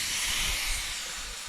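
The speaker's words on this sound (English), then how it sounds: "when you put compressed air in the top" Compressed air from an air hose hisses steadily into an oil bottle in a farm workshop during track work on a John Deere 8410T tractor, a close, continuous bright hiss with no voices.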